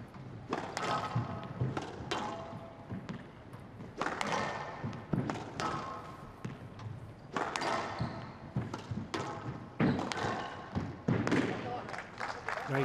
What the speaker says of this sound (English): That's another loose shot there from Gohar.